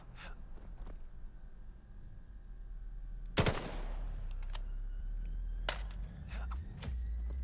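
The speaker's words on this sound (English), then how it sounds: "Great shots onto the head there from Cray." Gunfire from an SMG in the VR shooter game VAIL during a competitive match, with a loud burst of automatic fire near the middle and a few scattered single shots, all over steady game ambience.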